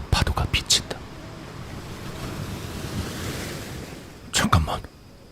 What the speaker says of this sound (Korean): 살풍경한 콘크리트 암벽에 꿈틀거리는 파도가 비친다